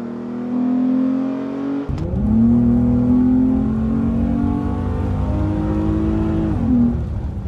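A 1998 Mitsubishi Pajero Evolution V6 engine with a cold air intake revs hard, its pitch climbing after a sharp start, holding a loud rising drone and then dropping back near the end, close by.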